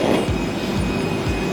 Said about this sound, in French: Alors là, on prend le tramway, première expérience.